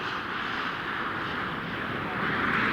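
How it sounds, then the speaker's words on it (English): Space Shuttle Columbia rolling out on the runway at main landing gear touchdown, a steady loud broadband roar of wind and airframe rumble that swells slightly near the end, with no distinct impact. "Main gear touchdown."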